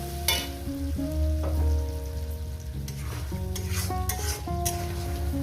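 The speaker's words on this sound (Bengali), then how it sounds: "আরও চার পাঁচ মিনিট করে এভাবে কষিয়ে নিই" Spice paste for mutton curry sizzling in a pan while being stir-fried, with a loud continuous sizzle, intermittent scraping and clinking of the stirring utensil against the pot, and no talk.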